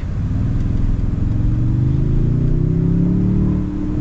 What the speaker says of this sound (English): Let that Subaru scoot on through.